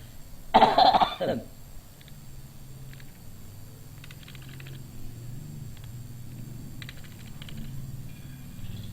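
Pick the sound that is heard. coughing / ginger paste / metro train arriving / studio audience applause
coughing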